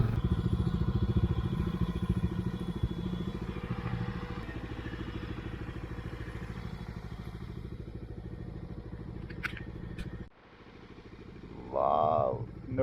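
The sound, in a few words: motorcycle ride in monsoon fog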